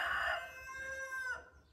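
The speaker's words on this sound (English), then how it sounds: "I think I'm gonna give some to that rooster so he'll stop talking during my video." Rooster crowing once outdoors, a single drawn-out call that fades at the end, moderately distant and fairly faint.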